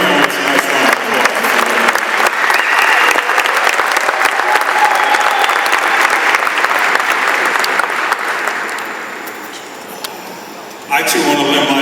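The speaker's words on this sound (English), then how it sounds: "Please give our panelists a nice round of applause." Audience applause for a housing panel at a Chicago community congress, loud sustained clapping from a sizeable crowd that gradually thins and fades over about ten seconds before a voice resumes.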